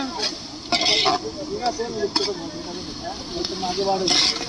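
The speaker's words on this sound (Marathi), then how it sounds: "कांदा फ्राय" Onions fry in a pan with a soft steady sizzle, while a utensil scrapes and clinks against the pan now and then; people talk nearby over the cooking.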